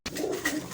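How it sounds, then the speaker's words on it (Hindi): Breeder pigeons coo in a short, close, soft burst as grain is set out before them, a single throaty call with no voices. "ये अपने ब्रीडर कबूतर हैं सारे, ये कबूतर हैं, ये इनके आगे दाना रखा है।"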